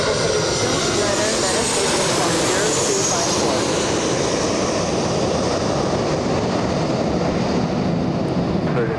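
Airliner arriving at Los Angeles International Airport from San Jose, a sustained loud jet engine roar passing close overhead with broad rushing noise, steady throughout, voices faintly beneath.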